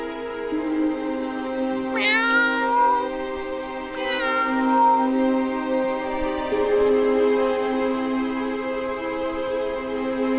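A cat meows clearly and fairly close, two drawn-out rising calls a couple of seconds apart over a steady tonal background hum.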